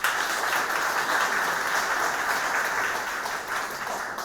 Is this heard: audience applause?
yes